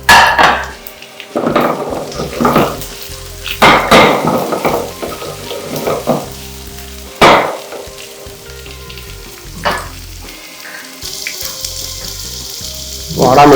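Chopped shallots and onion frying with coconut in a pan for a Kerala-style prawn coconut roast, a close, loud sizzle that swells in repeated bursts as the pan is stirred, with occasional utensil clinks.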